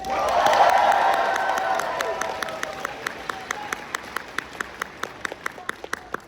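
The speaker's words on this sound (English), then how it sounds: "One last cheer for Jed." A panel audience at a Sonic fan expo applauds and cheers, a loud burst of clapping that peaks early then thins out into scattered, distinct individual claps trailing off.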